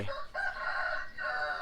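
A rooster crows close by at an outdoor seafood meal, one long strained call that rises and holds, loud against a quiet background.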